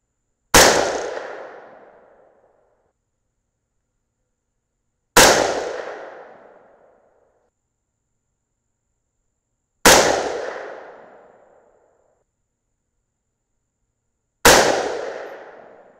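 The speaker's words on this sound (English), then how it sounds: "So that first shot went left and screwed up the group a little bit" Four loud 6mm rifle shots at an outdoor shooting range, each a sharp crack with a short decaying tail, evenly spaced about four and a half seconds apart with silence between and no talking.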